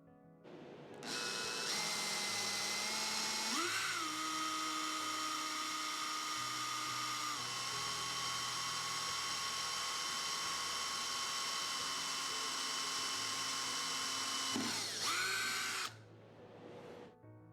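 An electric drill boring holes through a project board for mounting a computer with hex head screws, grommets and nuts, running as one steady high whine for about fifteen seconds, loud and close, with a brief dip in pitch midway.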